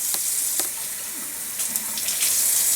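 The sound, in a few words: hot water running from a tap into a sink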